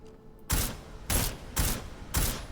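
Combat rifle fire in the video game Deus Ex Mankind Divided: four evenly spaced, loud, sharp shots ring out after a brief quiet start, each with a short decaying tail.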